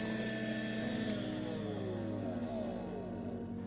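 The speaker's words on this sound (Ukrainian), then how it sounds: "Пилосос виконує свою функцію так, як і було задумано." A handmade cordless mini vacuum cleaner runs with a steady whining motor hum and airflow, its pitch sliding gently downward near the end, close and fairly quiet with no speech.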